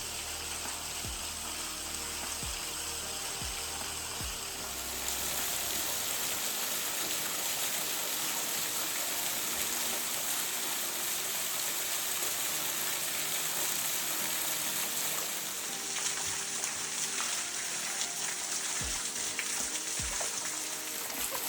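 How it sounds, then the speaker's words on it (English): A waterfall pours down into a tall ice cone, a steady, dense rushing hiss of falling water with no talk, heard near and continuous throughout. "But even still, beautiful waterfall."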